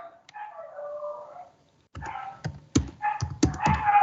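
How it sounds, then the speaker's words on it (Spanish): Several dogs bark outside in a muffled, irregular chorus of howl-like yelps and sharp barks, heard alone without voices, with keyboard-like clicks among them. "tenemos concierto de perros ahorita."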